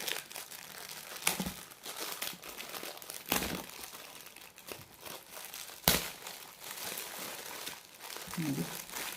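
Packaging being opened by hand, bursts of crinkling and tearing wrapper with a few sharp crunches between quieter pauses.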